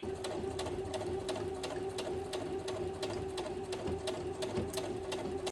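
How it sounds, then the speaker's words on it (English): A sewing machine stitches fabric for a book sleeve, giving a fast, even mechanical hum and rapid needle ticking that runs steadily and close, with no talking. "So I'm going to sew this side across the bottom and here for this one."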